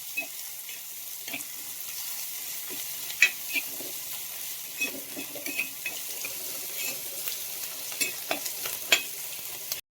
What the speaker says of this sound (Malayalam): ചുവന്നുള്ളി ഒരു രണ്ട് പച്ചമുളക് ഇത് നന്നായി ഒന്ന് സോട്ട് ചെയ്ത്